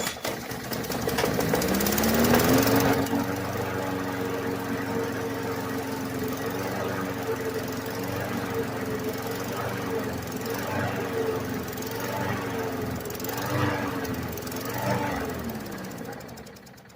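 A Craftsman push mower engine cranks and catches, then runs steadily with a rough, knocking putter and a slight wavering pitch, loud and close, with no talk over it.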